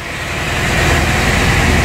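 A 1990 Chevrolet Corvette C4 engine idles steadily with a deep, even rumble. The sound is loud and near, with no talk over it.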